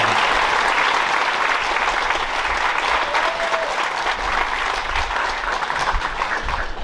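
Graduation-night audience applauds scholarship recipients at a high school honor graduate ceremony, steady loud clapping throughout with no break.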